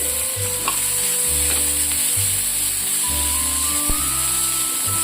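Asafoetida, curry leaves, chopped onion and green chili hit hot oil for an amla rasam tempering, producing a loud, steady hissing sizzle with a low hum behind it and no speech.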